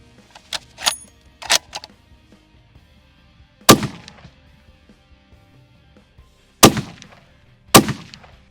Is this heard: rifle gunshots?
yes